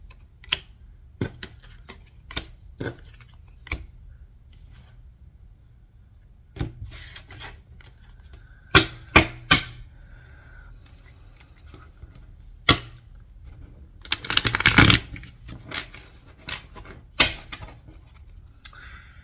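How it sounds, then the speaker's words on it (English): Tarot cards are shuffled in soft, irregular bursts of riffling and rubbing, with sharp isolated taps and a denser flurry near the end, fairly quiet and close. "I'm just going to shuffle these cards up a bit"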